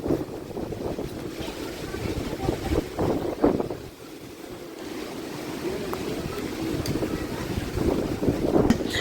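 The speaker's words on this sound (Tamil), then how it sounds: "இந்த அலை எப்படி அடிக்குதுன்னு" Rough sea at Keerimalai, Jaffna: waves churn and crash while strong wind buffets the microphone in continuous gusts, with a brief lull midway before the surge builds again.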